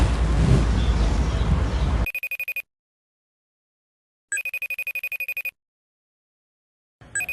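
Noisy room sound cuts off, then a telephone ringback tone sounds in repeated short pulsing bursts separated by silent gaps, as a call to an aunt connects.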